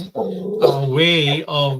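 A dog indoors gives a drawn-out whining howl and yelping bark in rising and falling tones, close and loud, with a brief bit of speech at the start.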